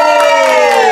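A crowd cheering and shouting loudly and continuously at a close distance, with voices rising together in a sustained roar of excitement.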